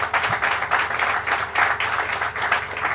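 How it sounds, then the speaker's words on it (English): A crowd at a public event applauds with Governor Cuomo present, giving steady, rhythmic clapping of moderate loudness throughout. "Let's give them another round of applause."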